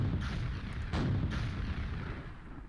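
Rocket launcher fired in the classic shooter Quake, heavy booming blasts over a dense rumbling low end, with a sharp burst near the start and another around the one-second mark.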